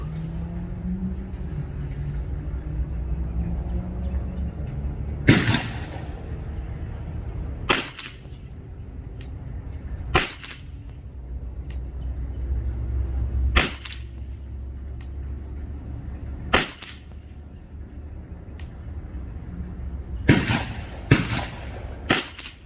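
Rifle shots from a custom Ruger 10/22 ring out one at a time at irregular intervals, about ten sharp cracks over a low outdoor rumble, some in quick pairs near the end.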